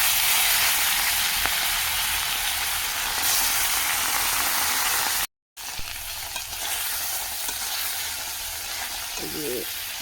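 Fish frying in hot oil in a pan, a loud, steady close-up sizzle and hiss that cuts out briefly midway and resumes, with a few faint clinks of stirring near the end.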